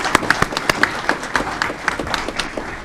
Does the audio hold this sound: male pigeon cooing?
no